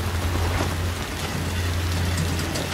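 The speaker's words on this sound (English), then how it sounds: "Oh, now it's raining." Steady rain hissing across a surface, an even wash of noise with a low hum underneath and no talking.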